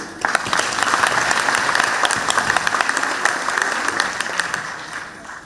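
A concert audience in Tremblay-en-France gives sustained applause, loud and dense, with sharper individual claps standing out from the crowd for several seconds before easing slightly.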